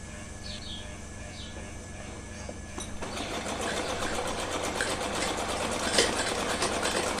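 A sewing machine stitching a small cotton dress for a Laddu Gopal idol, starting after a quiet stretch with faint bird chirps, then a steady rapid mechanical whir and clatter, close and fairly loud.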